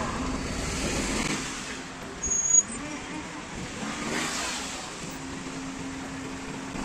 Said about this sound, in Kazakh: Мына ушундай тыгындарда жашап атабыз.